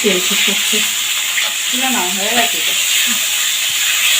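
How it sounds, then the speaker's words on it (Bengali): Fish full of roe fry in oil with a loud, continuous sizzle and crackle close by, while a voice talks over it. "মাছগুলোর ভেতরে না ডিম হয়েছে তাই জন্য ফাটছে বেশি নাহলে এতটা ফাটে না"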